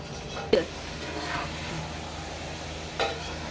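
Partly boiled rice tipped into hot sugar syrup for zarda, a wet slump and clatter near the start and another around three seconds, over a steady low sizzle with no talk.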